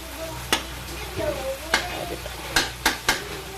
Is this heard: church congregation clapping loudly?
no